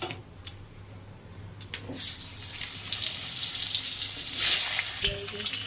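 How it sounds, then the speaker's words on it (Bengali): Potato and green banana pieces frying in oil in a kadai, a rushing sizzle that builds and holds steady, with a few sharp clicks before it swells. "আলু কলাগুলো ভাজা হয়ে গেছে।"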